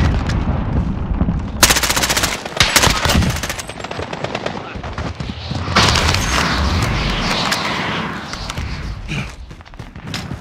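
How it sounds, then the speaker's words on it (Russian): Frag grenade blast in Call of Duty Warzone Pacific, a heavy booming detonation among loud rapid machine-gun fire and rattling gunshots, with a second rumbling burst later in a dense, noisy battle. "Кидаю осколочную"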